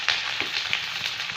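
Sliced onions sizzle in hot mustard oil in a pan while a jackfruit curry is being cooked, giving a brief, steady crackling hiss with small pops and no talking.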